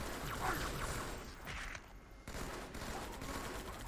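Rapid gunfire bursts from the Halo 2 video game, a dense crackling barrage that dips briefly and resumes with a sharp hit, continuous over game noise with no talk.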